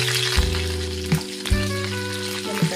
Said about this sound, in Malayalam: കടുക് പൊട്ടിയതിന് ശേഷം ചെറിയ ഉള്ളി ഇടാം